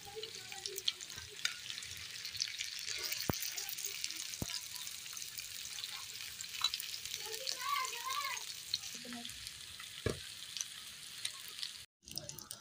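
Chapli kababs fry in a pan with a soft, steady sizzle and occasional clinks from turning them, faint and close throughout, with no talking.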